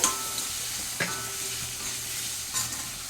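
A tempering of spices with a pinch of asafoetida sizzles in a cooking pan, with a couple of distinct spoon scrapes and clinks as it is stirred, close and steady.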